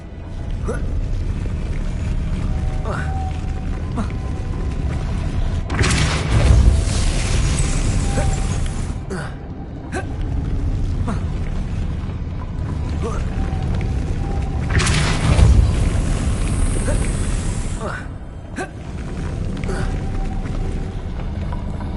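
Depulso force-push spell in Hogwarts Legacy shoving objects, two loud booming, creaking bursts spaced several seconds apart over a steady rumbling game bed, with faint talk underneath.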